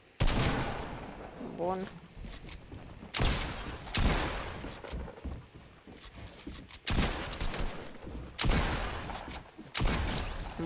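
Rapid bursts of automatic gunfire from the video game Fortnite, several loud broadband volleys spread across the clip with short gaps, while a player speaks briefly.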